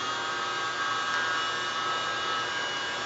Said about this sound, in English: Look at that little blower again.